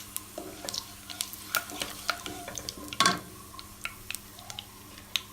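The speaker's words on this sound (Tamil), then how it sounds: "பட்டை, லவங்கம், கொஞ்சம் சோம்பு எல்லாம் போட்டு ஃப்ரை பண்ணிவிட்டு" Cinnamon, cloves and fennel seeds fry in hot oil in a pan for a potato kurma, making soft, scattered crackles and ticks with one louder sizzling pop partway through.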